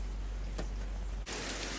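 A dense, steady hiss of heavy rain pours down without a break, rising slightly louder near the end.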